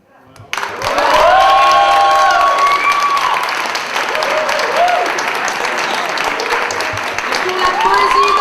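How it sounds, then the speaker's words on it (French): An audience at a poetry slam breaks into loud, sustained applause for a poet, with cheers and whoops mixed into dense clapping that swells right after a brief hush. "On applaudit le poète."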